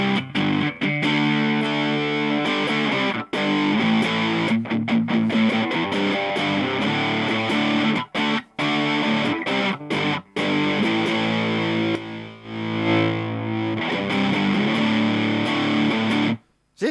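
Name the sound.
guitar through Turbo Rat distortion pedal, volume turned down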